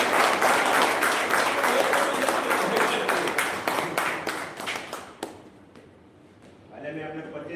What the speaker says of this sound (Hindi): एक बार सब लोग हमारे प्रोड्यूसर के लिए ताली बजाइए।